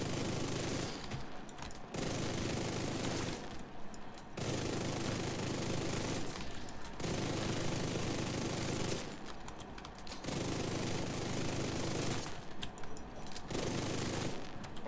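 Bursts of automatic gunfire from hip-firing a weapon in the video game The Division 2, sustained rapid volleys of two to three seconds each, separated by short pauses across the stretch, fairly distant and steady in level, with no speech.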